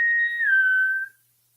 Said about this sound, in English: A bosun's whistle. A bosun's call,